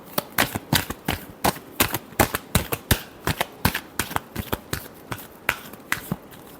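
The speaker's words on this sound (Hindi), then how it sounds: "last shuffle" Tarot cards are shuffled by hand in a quick, irregular series of crisp riffling snaps and flicks, close and clear, with no talk over them.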